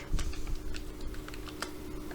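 A computer keyboard is typed on to enter a search in a browser bar, with a quick run of close, light key clicks in an irregular rhythm over a faint hum.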